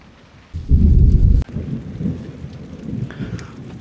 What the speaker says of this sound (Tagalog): Gusto po natin ma-experience yung malakas na ulan dito po sa loob ng kubo.